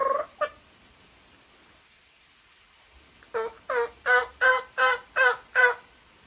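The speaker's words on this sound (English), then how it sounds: "One gobbled, but that wasn't those 2. Somebody else gobbled." Wild turkeys gobbling outdoors: a short call, a pause of quiet, then a rapid run of about seven rattling gobbles, fairly distant and clear with no talk.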